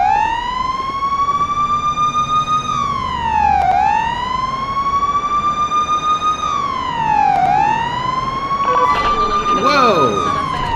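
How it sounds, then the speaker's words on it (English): Police SUV siren in a video game wails in long rising and falling sweeps, loud and close, with a brief burst of harsher noise near the end. "turn on our lights and sirens"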